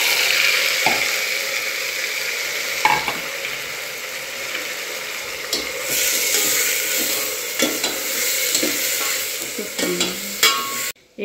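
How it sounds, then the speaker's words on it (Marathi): Usal, a sprouted bean curry with turmeric and salt, sautés in a pan with a steady sizzle and frying hiss, broken by scattered clinks and scrapes of stirring over about eleven seconds. "एका बाजूला आपली उसळ परतत आहे"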